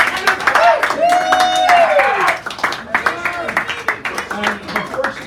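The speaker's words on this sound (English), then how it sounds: "Give her a nice round of applause." Clapping from a small audience at a poetry open mic in a San Francisco café, with voices and whoops mixed in and the clapping fading in the second half.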